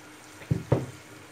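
Marinated meat dropped into a pan of browned fried onions, two quick wet splats followed by a short sizzle, close and brief.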